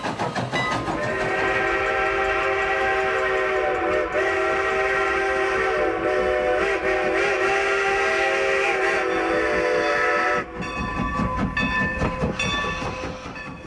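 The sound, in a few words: steam locomotive train and whistle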